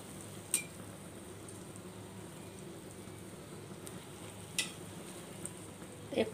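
Dal puri frying in hot oil gives a steady, quiet sizzle that runs unbroken, with a few faint metallic clinks from a utensil scattered through it and no talking.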